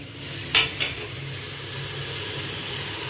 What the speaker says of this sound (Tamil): உப்பு எடுத்து சேர்க்குறேன்னா ஆனியல் சீக்கிரம் வதங்கிறதுக்காக சேர்க்குறேன்.